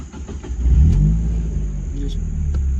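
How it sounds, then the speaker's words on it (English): Mazda Miata engine held at high revs with a steady, loud rumbling roar for a burnout, a sustained droning note with slight wavering, close by. "So we'll do a little burnout."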